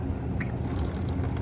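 Radiator fluid from a Honda S2000 runs out of a hose into a drain bucket as a steady, close liquid pour with light splashing, no voices.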